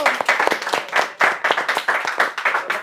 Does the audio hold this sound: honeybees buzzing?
no